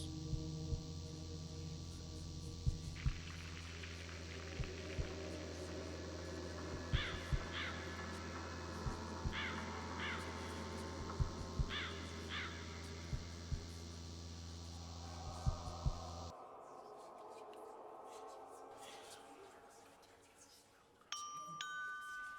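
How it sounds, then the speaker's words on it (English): Crows caw on an eerie recording in The Lost Crown ghost-hunting video game, with repeated harsh calls in spaced bursts over a low hum and faint ringing tones, then the background shifts to a quieter ambience. "Strange sounds recorded from the painting,"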